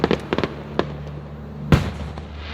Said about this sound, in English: Hear those cracklers again.